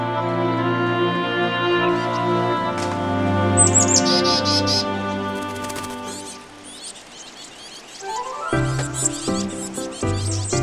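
Great tit chicks and other birds chirp in a mountain forest at about 800 m elevation near a remote Jirisan village: quick high-pitched tweets in short clustered bursts, first over a sustained tonal music bed, then more prominent and busier toward the end.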